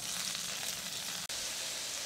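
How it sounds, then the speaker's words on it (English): Noodles fry in a pan with seasoning tossed through them, a steady loud close-up sizzle that runs throughout, with a brief scrape near the end. "my noodles have been frying for a couple minutes"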